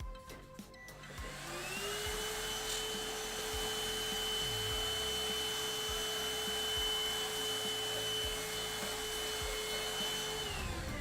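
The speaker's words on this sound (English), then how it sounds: "Now I can vacuum the floor." A vacuum cleaner runs across the floor, starting after a brief clatter and then holding a loud, steady motor whine with a high tonal hum for the rest of the stretch.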